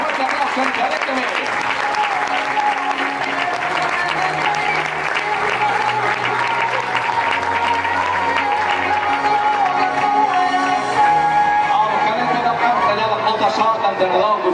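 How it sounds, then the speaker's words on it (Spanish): Crowd applause for a youth cadet basketball team at a club's season presentation, steady clapping filling the hall while a voice and background music carry on underneath. "Un aplaudiment per ells, sisplau."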